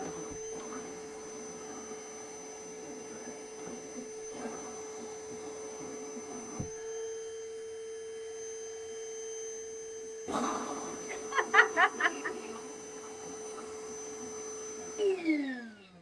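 Milwaukee M18 VC2-0 cordless job-site vacuum runs with a steady whining motor drone and tonal hum throughout, briefly dipping, then surging into a louder mode with rattling bursts and a falling pitch as it winds down.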